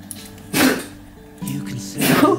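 Small bursts of sneezing, three quick sharp outbursts a moment apart, heard at moderate distance in a quiet kitchen during cooking.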